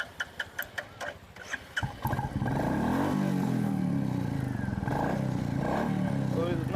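A motorcycle with a modified loud silencer, first blipped in a series of short sharp throttle revs, then held at a sustained loud roar with rising and falling engine pitch, close by.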